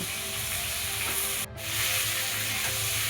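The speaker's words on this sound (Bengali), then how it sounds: "আবারও নাড়াচাড়া করে ফুলকপি কুচনোগুলো দিয়ে দিল।" Chopped cauliflower with turmeric powder sizzling hard in a hot pan, a dense, continuous hiss close up that drops out for a moment midway and then returns just as strongly.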